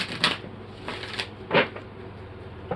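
A deck of cards being shuffled in short riffling bursts, three or four brisk papery flutters separated by brief pauses, close and moderately quiet, with no talking.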